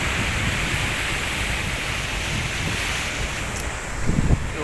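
Strong sea waves surge and wash continuously near a fishing spot, a loud, dense roar mixed with wind buffeting the microphone and a brief thump near the end.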